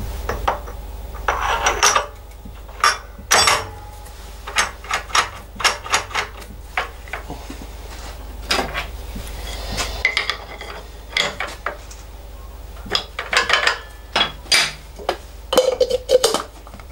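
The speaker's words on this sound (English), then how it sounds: "we'll just put the collet chuck in the mill. Just make sure we get it wiped down and clean" A collet chuck is handled, wiped and fitted into a milling machine, making a run of close metallic clinks, knocks and scraping rubs with short pauses between them over a steady low hum.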